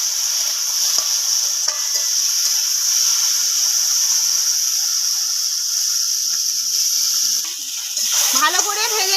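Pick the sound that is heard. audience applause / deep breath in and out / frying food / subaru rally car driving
frying food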